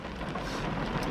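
Heavy rain pours down outside in a dense, steady hiss that fills the whole moment, close and even with no voices.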